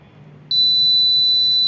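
An Arduino rain sensor buzzer alarm goes off when a water drop lands on the sensor: a loud, piercing, steady electronic tone starts abruptly after a quiet moment and holds without a break.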